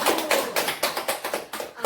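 Rhythmic hand clapping keeps time to a children's rights clapping chant, a quick run of sharp claps in an uneven patterned beat, close and fairly loud, with voices chanting along.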